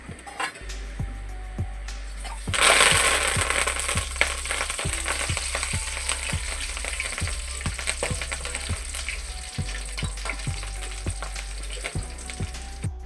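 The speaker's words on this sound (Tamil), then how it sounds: "எண்ணெய் சூடு ஏறி போச்சு, உதிரியாக போட்டுக்கலாங்க." Cashew pakoda batter frying in hot oil, a loud burst of sizzling as it drops in, then a steady bubbling crackle with regular clinks of a utensil against the pan, close and without talk.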